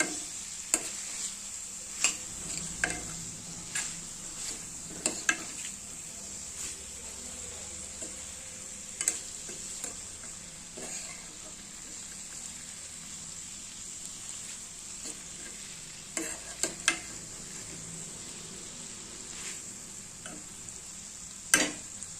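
Cluster bean curry with salt added gets stirred in a pan, faint scattered spoon taps and scrapes over a soft continuous sizzle, with a steady high hiss running underneath throughout.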